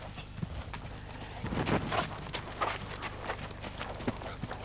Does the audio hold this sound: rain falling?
no